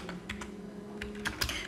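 Light typing on a computer keyboard, a handful of scattered soft key clicks over a faint hum, quiet and close with no voice.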